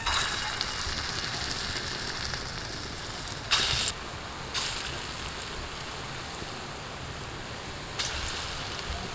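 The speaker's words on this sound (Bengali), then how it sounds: "তো ছোট ছোট বড়ি আমি এখন তেলের মধ্যে দিয়ে দিচ্ছি।" Small lentil dumplings (bori) sizzle in hot mustard-free oil in a pan, a dense, steady crackling hiss that carries on alone with a few brief louder bursts.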